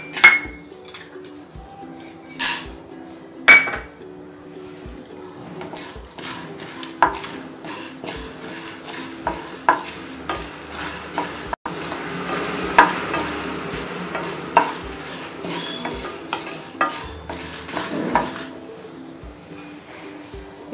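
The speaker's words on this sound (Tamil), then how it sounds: "இப்போ இந்த இன்க்ரீடியன்ட்லாம் போட்டு நம்ம வறுத்து எடுத்துக்கலாம்" Pepper and whole spices dry roasting in a pan for Tamil milagu kulumbu, with repeated clinks and scrapes of a spoon stirring against the metal, irregular close taps over a faint background.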